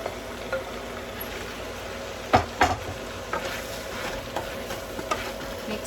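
Bottle gourd (upo) going into a frying pan with tofu and being stirred, giving a low sizzle with a few sharp scraping knocks of the utensil, close by and with no talking.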